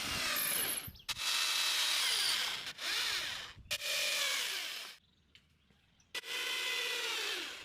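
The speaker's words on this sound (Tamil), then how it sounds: "அப்படியே கூண்டை கீழே சாய்ச்சிட்டு கீழ் சைடுலேயும் வலையை வச்சு ஸ்க்ரூ போட்டுக்கிட்டேன்" A power drill driving screws through wire mesh into a wooden love bird cage frame, in several long, loud whirring runs separated by short pauses and one longer gap, close up.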